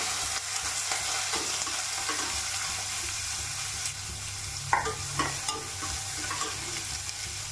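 Chopped onion frying with whole cardamom, cloves and black peppercorns makes a soft, continuous sizzle, broken by a couple of brief utensil knocks and stirs midway through.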